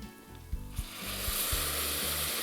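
Pork roulade sizzles in a hot pan as white wine is poured in, with onions and garlic; a loud, steady hiss swells after a couple of short bursts and continues under rhythmic low thumps of stirring.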